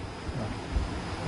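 Turbulent airflow rushes through a wind tunnel as a steady, dense roar of broadband noise with slight gusty swells, close and moderately loud, and no voices over it.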